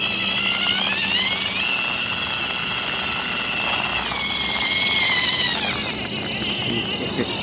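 A 1/24 scale micro RC car's electric motor whines steadily and close, its high pitch rising and falling as the car accelerates and slows.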